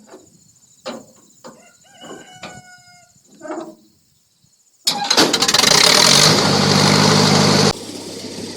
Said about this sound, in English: now that I got my welder running there